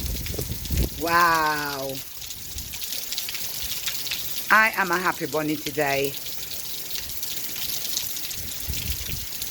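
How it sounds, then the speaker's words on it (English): Hailstones fall with rain onto plants outdoors, a constant hissing patter throughout, while a person speaks a couple of short, excited phrases nearby. "Hailstones."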